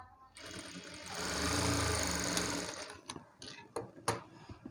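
Sewing machine running in reverse while stitching a blouse, a steady close motor whir for about two seconds, then stopping into scattered clicks and handling taps as the fabric is moved.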